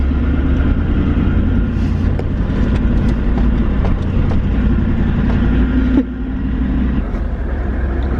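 A manual car accelerates over a corrugated dirt road on the Canning Stock Route in the Australian bush, making a loud, continuous engine rumble with rattling vibration that eases slightly near the end.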